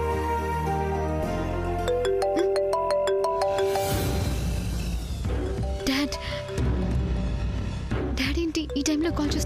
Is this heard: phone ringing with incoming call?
yes